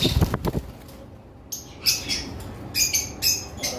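A few quick flaps or rustles, then bright chirps and tweets in short bursts from pet lovebirds nearby.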